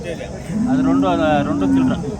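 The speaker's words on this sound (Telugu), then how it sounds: "ఇక్కడ 2 ఆవులు ఉన్నాయి అన్నా" A cow at a weekly cattle market gives one long, loud, close moo lasting about a second and a half, over a low murmur of market background noise.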